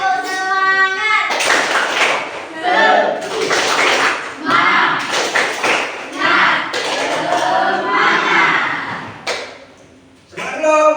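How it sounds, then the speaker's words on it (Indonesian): Classroom students standing for an ice-breaking spirit clap, rhythmic bursts of group clapping alternating with loud chanted voices, close and lively throughout with brief pauses between rounds. "Tepuk semangat."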